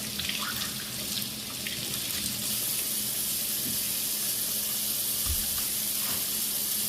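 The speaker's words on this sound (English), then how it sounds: "I'm going to wash it again" Cabbage being washed under a running kitchen tap, a steady close gush of water over the leaves with faint handling sounds and no talking.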